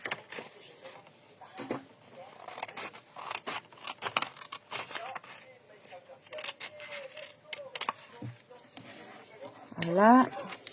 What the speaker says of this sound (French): Ensuite, on va couper. Je vais prendre le ciseau que je trouve.